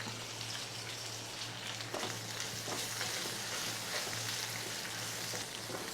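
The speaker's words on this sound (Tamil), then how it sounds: "நல்லா அந்த எண்ணெயில் நல்லா அந்த மிளகாய் வந்து வதங்கணும்" Slit green chillies with curry leaves fry in hot oil over a low flame, a steady close sizzle with faint crackles and a low constant hum beneath.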